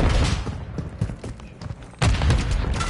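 A frag grenade explodes in Modern Warfare III near Burger Town, landing as a loud, broad burst at about the two-second mark amid ongoing gunfire and game noise.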